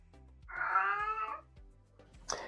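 A cat gives one drawn-out, wavering meow close by, followed a moment later by a short, sharper mew, with soft background hum.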